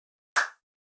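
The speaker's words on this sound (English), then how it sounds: "The next thing we have here is this clap" A single dry clap sample from a lo-fi house track, one short sharp hit with a quick decay, alone in silence.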